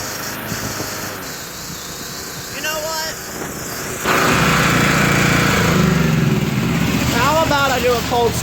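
A small engine on a DR machine makes a cold start: after several seconds of quieter background noise, it catches midway and runs loudly and steadily at close range to the end.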